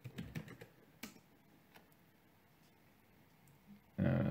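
Quick keystrokes clatter on a computer keyboard while a command is entered in a terminal, a burst of several close taps followed by sparse single presses, then a louder noise at the end.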